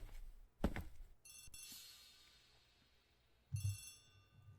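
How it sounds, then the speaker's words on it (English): A telephone rings in the hall of a house in the Agatha Christie game The ABC Murders, a bright repeated trill heard from a slight distance, framed by a couple of dull thumps. "The telephone in the hall is ringing."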